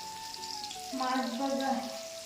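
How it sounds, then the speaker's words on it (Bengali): Fish frying in a pan gives a steady, close sizzle throughout, with voices talking over it in the second half. "মাছ ভাজা"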